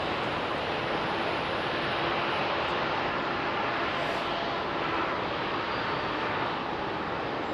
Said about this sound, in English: Amsterdam bound, that Flybe aircraft, folks.